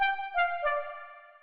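A lo-fi house FM synth lead plays three short sustained notes that step downward, bright and bell-like with a soft attack, the last note ringing out and fading, alone and close.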